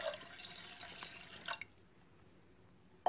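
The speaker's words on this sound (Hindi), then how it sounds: "अब इसमें मैं पानी डालूंगी" Water poured into a pressure cooker holding pigeon pea lentils for dal, a splashing liquid stream for about a second and a half, then quiet before a brief clink at the end.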